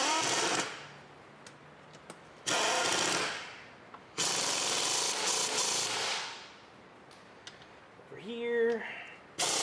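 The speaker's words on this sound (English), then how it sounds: "I'm gonna tighten these 14mm nuts here." A power ratchet or drill runs in bursts to tighten 14mm nuts on a Toyota Highlander during a spark plug job, three whirring runs of a couple of seconds each, close and loud, then a brief rising whine.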